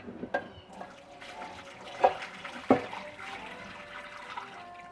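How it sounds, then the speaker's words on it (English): Beet dye is poured over a shirt in a sink, with splashing and gurgling liquid and a few sharp knocks, close by and moderately loud. "pour it over the shirt"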